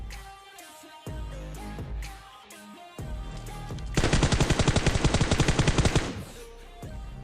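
Gunfire in PUBG Mobile: a few separate shots and bursts, then a rapid, loud automatic burst of about two seconds, followed by quieter game sounds.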